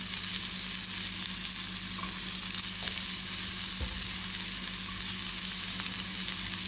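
Onion frying in a pot of garlic-infused coconut oil, a dense unbroken sizzle, loud and close, with a steady low hum beneath and one brief knock midway.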